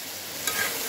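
Sour tomatoes dropping into a hot pan for a pabda fish curry, a brief close sizzle and frying hiss with a slight splash partway through, no voices.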